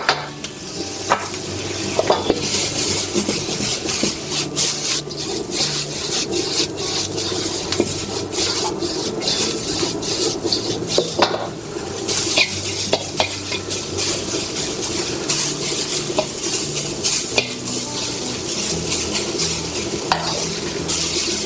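Bamboo shoots and cabbage are stir-fried for moo shu pork, with a steady sizzle under continuous scraping and stirring in the pan, close and even throughout.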